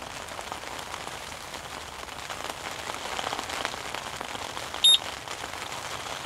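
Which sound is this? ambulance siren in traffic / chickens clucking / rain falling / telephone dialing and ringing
rain falling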